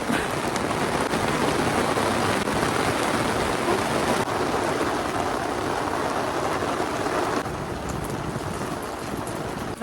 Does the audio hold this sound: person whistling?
no